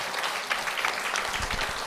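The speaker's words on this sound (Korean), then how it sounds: "박수로 맞으세요." Audience applause in a Korean Buddhist monk's televised dharma talk, a steady wash of hand claps filling the short moment, moderately loud with no clear talk over it.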